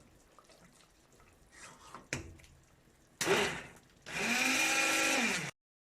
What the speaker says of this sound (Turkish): Şimdi bir güzelce blenderımızı tutalım.